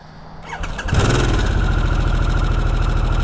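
A Harley-Davidson Sportster S 1250 engine cranks and fires up, then settles into a loud, steady, rumbling idle with a fast pulsing beat, heard close up.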